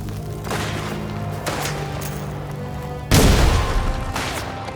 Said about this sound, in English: Get him with the grenade!